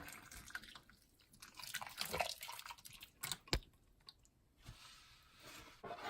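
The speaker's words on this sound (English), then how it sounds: "The tomato sauce, just pour it all over." Tomato sauce poured over beef for a slow-cooked birria, with soft splattering, dripping and splashing bursts in quiet, close, uneven spurts.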